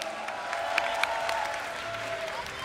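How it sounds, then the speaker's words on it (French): Crowd applause for the casters at an esports Counter-Strike grand final at Paris Games Week, fairly faint and distant clapping with a few sharper claps standing out and a steady hum beneath. "Si vous pouvez applaudir les casters, s'il vous plaît."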